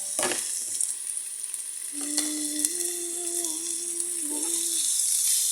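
Chicken sizzling in a hot pan for fried sotanghon, a steady frying hiss close up with a sharp burst at the start as the meat goes in and a faint tonal whine running underneath.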